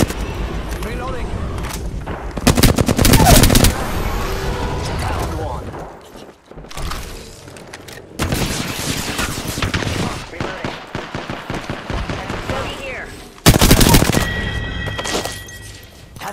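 Video game shootout during a squad fight, with repeated bursts of rapid gunfire and heavy booming shots in three loud clusters separated by quieter stretches.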